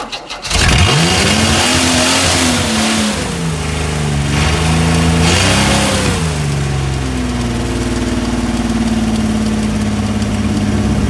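Chrysler Valiant Hemi 265 engine, a CM Valiant, cranks and fires, then holds a loud, steady idle with a couple of brief revs in the first few seconds before settling into a constant rumble.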